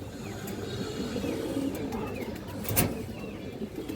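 Pakistani Rampuri high flyer pigeons coo softly, a low throaty murmur under faint chirps and background noise, with a brief louder rustle partway through.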